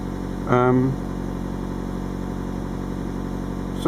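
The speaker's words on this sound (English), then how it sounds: "the engine starts and it's running quite nicely" A car engine idles steadily after a new O2 sensor is fitted, a close, even mid-pitched hum; a short voice-like tone sounds near the start, and the idle then continues alone.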